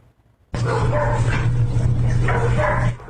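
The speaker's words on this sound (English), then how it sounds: "3 dogs believed to be abandoned in an apartment in Balcones Heights" Abandoned dogs shut inside an apartment bark continuously and loudly, a dense run of overlapping barks and yips that starts abruptly and carries on for a few seconds with no talk.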